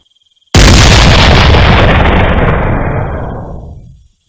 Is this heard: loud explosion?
yes